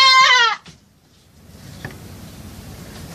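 A goat at a Bantul livestock farm lets out one loud, wavering bleat up close, followed by a near-silent gap and then low farmyard background rumble with a faint click.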